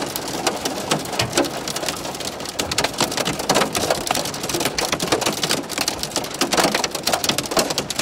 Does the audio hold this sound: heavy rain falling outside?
yes